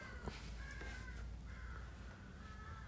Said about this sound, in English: I don't know if that's picking up, but there's a crow.